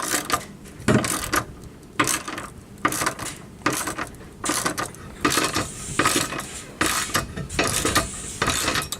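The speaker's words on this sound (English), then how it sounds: "Keep in mind these are lock nuts, so they might be a little hard to turn" Lock nuts on a driveshaft bearing skid plate being tightened with a ratchet, a series of loud close clicking bursts in short repeated runs separated by brief pauses.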